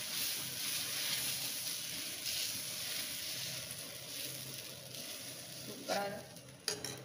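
Green moong dosa batter sizzles steadily on a hot oiled griddle, a close, continuous hiss that holds throughout, with a few brief scrapes and knocks near the end.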